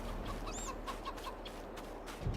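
Chickens clucking in the Farming Simulator 22 video game, a few short soft clucks and a brief higher squawk over a steady low background hum, fairly faint and with no voices.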